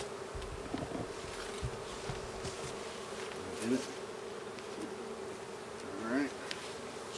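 Bees from an open backyard beehive buzz steadily and close by, with a few louder passes as individual bees fly near; a person speaks briefly over the hum.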